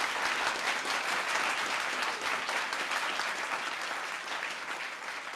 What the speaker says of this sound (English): Let's give them an applause track right now